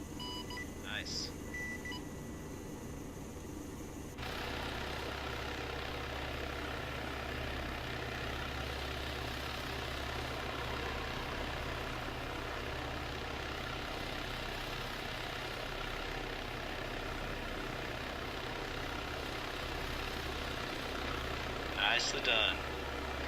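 An aircraft engine spooling down on deck in the video game ArmA III gives a steady low drone that shifts level partway through and runs beneath brief talk, with a short electronic chirp near the end.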